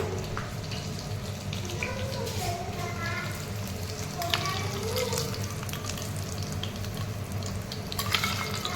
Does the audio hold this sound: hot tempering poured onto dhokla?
yes